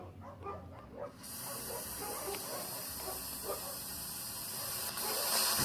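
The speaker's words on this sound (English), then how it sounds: "if I just take this, air can start coming out" Compressed air hisses steadily out of an opened valve on a homemade air tank, a broad continuous rush that starts abruptly and stays loud, growing slightly stronger toward the end.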